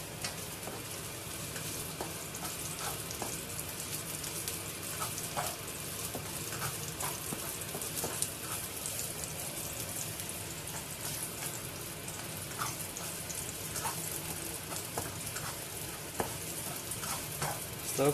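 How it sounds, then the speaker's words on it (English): Garlic and ginger stir frying in hot oil for a fish pot, a constant crackling sizzle with small pops and scraping stirs, fairly quiet and unbroken throughout. "you can see the oil start sizzling"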